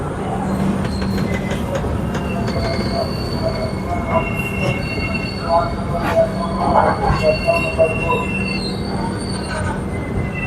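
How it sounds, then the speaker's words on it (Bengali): The Darjeeling Mail, hauled by a WP7 locomotive, rumbles steadily out of Malda Town station, with metallic wheel squeals and screeches rising over the low drone as it rolls out; faint voices in the background. "ট্রেন এক্ষুনি ছেড়ে বেরোবে মালদা টাউন স্টেশন থেকে।"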